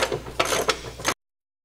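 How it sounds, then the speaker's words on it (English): Hand ratchet loosening the front leaf spring eye bolt on a Mustang, heard as a fast, close series of clicking strokes over about a second before the sound cuts off. "we're ready to take out this front eye bolt, and here we go. We'll ratchet it off."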